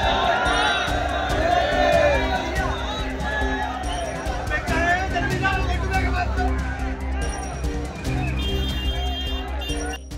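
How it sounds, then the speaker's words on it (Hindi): A dense crowd of Shiva devotees surges at the Mahakal temple in Ujjain during Shivratri, a loud, continuous roar of overlapping voices with scattered shouts and calls throughout. "यहाँ पर शिव भक्तों की ये भीड़ इतनी बढ़ गई"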